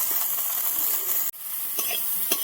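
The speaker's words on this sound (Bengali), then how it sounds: "লাল লাল করে ভেজে নিচ্ছি।" Cauliflower pieces seasoned with salt and turmeric sizzle steadily as they fry in oil in a pan, a constant hiss with light stirring clicks and a brief break midway.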